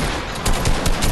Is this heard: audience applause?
no